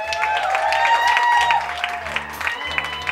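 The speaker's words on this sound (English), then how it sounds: "Please give a round of applause for" Audience applause for a performer at a live music show, a steady wash of clapping with a few cheers over sustained band tones and a low bass hum.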